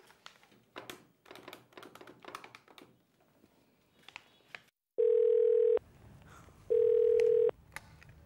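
A telephone is handled with a run of clicking taps, then two long, loud steady phone tones, each about a second, separated by a short pause.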